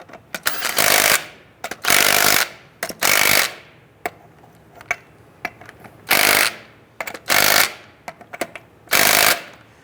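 Impact wrench bursts snug down lug nuts on a rear wheel of a 1994-2004 Ford Mustang, several loud, near rattling hammering runs of roughly a second each, separated by short pauses and lighter clicks.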